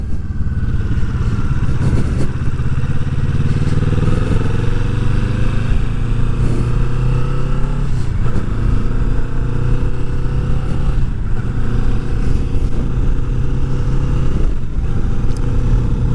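A 2020 Kawasaki Vulcan S motorcycle rides on a sunny, breezy winter day. Its engine drones steadily and loudly, shifting pitch as it accelerates and changes gears, with wind rush throughout.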